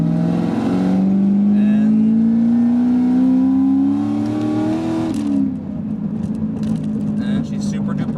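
A loud V1 Cadillac CTS-V with a freshly rebuilt engine, check engine light on, revs up steadily in a rising drone for several seconds, then settles back to a rough, throbbing idle, close and dominant throughout.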